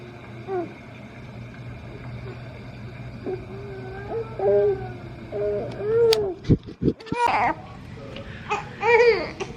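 A toddler cries and wails in his bed, heard through a baby monitor with a steady electrical hum underneath, the sobs coming in uneven bursts that grow louder and more strained toward the end.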